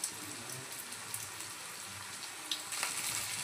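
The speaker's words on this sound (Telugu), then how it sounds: "ఈ అల్లం వెల్లిపాయ పేస్ట్ పచ్చి వాసన పోయేంత వరకు ఫ్రై చేసుకోవాలి." Fresh ginger garlic paste fries with onions in a pan for a chicken liver fry, a soft, steady sizzle and crackle with occasional louder pops, heard alone.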